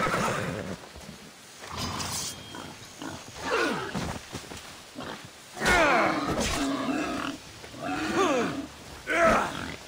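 Horse in Assassin's Creed Odyssey, close and fairly loud, whinnying and snorting in several separate bursts spread across the stretch, with faint hoofbeats between the calls and no talk.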